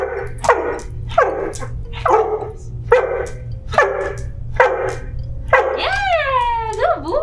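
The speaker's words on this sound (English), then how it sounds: "he's gonna bark continuously until somebody comes to help me" A trained dog named Harris barks repeatedly on a whispered command, sharp close barks in a steady rhythm, ending in a few rising whines and yips over a low background hum.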